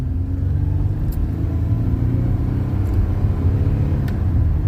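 A used car merging onto an interstate during a test drive, a steady loud engine and road rumble from inside the cabin as it accelerates, with no talking.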